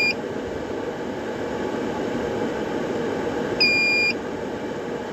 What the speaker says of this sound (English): It's already beeping.